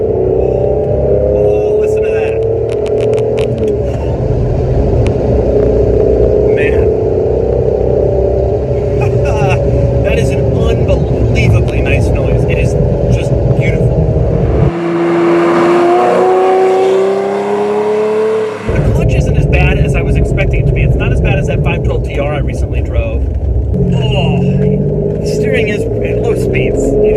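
A Ferrari Testarossa's engine revs loudly and continuously up close, its tone rising and falling through the throttle with a brief sharper rev in the middle, while people talk over it.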